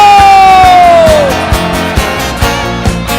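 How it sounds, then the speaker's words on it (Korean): Crowd at an outdoor Korean student-movement anniversary concert roars with shouts and cheers under a loud, steady wash of music, with rhythmic peaks suggesting chanting or clapping on the beat. "함성 시작!"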